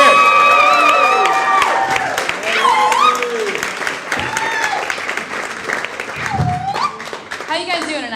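A comedy club audience at Gotham applauds and cheers as a comedian is welcomed to the stage. Loud, continuous clapping comes with whoops and shouts, and voices ring out over the crowd throughout.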